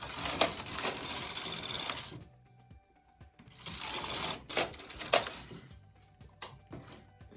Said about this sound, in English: I'm going to use a light blue mercerized cotton, and I'm going to knit 2 rows